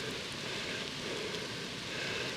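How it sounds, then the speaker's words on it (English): Rain falling steadily on an open golf course, a soft continuous hiss of drops with no voices, holding an even level throughout. "We're not worried about the rain, thunder, lightning."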